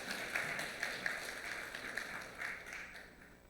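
A church congregation applauds during a Sunday service, a soft, fairly distant patter of many hands with a few sharper claps standing out, fading slightly toward the end.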